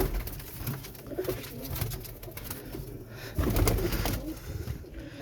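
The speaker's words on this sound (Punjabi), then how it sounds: "ਲਾਲ ਮੋਤੀਆਂ ਵਾਲਾ ਕਬੂਤਰ" Teddy-breed pigeons cooing in a home loft, steady soft rolling coos close by with a louder burst near the end, over continuous low background noise.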